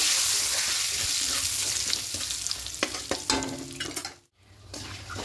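Whole cumin, two dry red chillies, two bay leaves and a pinch of asafoetida fry in hot oil with a close, crackling sizzle. A spoon stirs and scrapes through it in scattered strokes before a brief silence.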